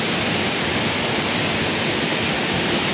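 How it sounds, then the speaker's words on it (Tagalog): Roaring, steady rush of falling water at Balagbag Falls, a loud broadband wash close by that holds constant throughout with no voices over it. "Ang taas ng falls."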